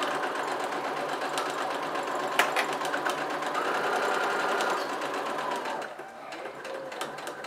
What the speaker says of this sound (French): Je rabaisse le pied et je continue à coudre.